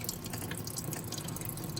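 Water drips and trickles steadily out of a flooded 2020 Can-Am XMR 850 engine, a faint, continuous patter and splash in a quiet garage setting.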